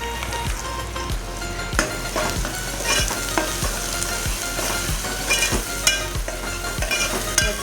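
Spice masala with red chili powder fries in oil for misal, with a steady close sizzle and regular scraping strokes of a spoon stirring the pan.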